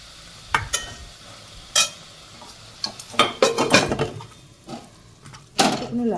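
A mixture of egg, breadcrumbs and a little flour mixed by hand in a bowl to bind it for shaping into patties: scattered soft squelches and dull knocks in uneven bursts, close by, with a voice faintly present.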